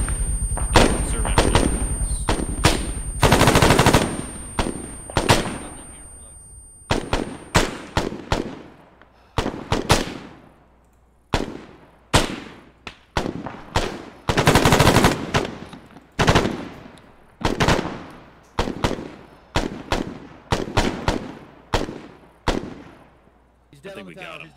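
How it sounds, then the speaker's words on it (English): Video game gunfire laying down a base of fire on a tower in a desert combat game: repeated loud bursts of automatic fire and single shots, some long sustained volleys, continuing across the whole stretch with brief gaps. "Let's lay down base of fire on that tower."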